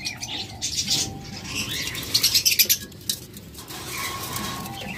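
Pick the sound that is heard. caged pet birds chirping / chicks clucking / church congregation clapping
caged pet birds chirping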